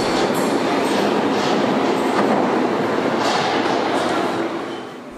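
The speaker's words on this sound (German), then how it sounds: "Wir besteigen nun wieder die U-Bahn und fahren zur nächsten Station." Berlin U9 U-Bahn train riding between stations toward Amrumer Straße, a steady loud rumble of wheels on track with faint clatter throughout, fading slightly at the end.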